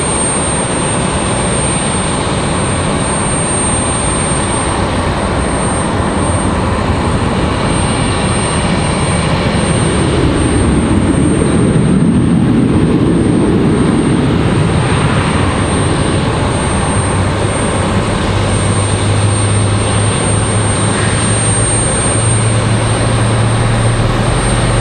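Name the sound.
Delta airliner from Los Angeles, jet engines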